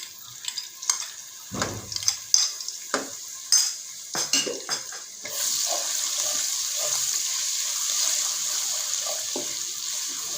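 Garlic ginger paste added to half a cup of hot oil for a mutton kofta curry, with a few spoon clinks and stirring knocks, then a steady sizzling fry that holds close and fairly loud to the end.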